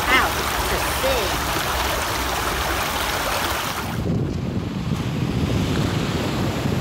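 Sea waves and surf wash steadily with a windy roar, broadband and continuous, loud throughout without a break.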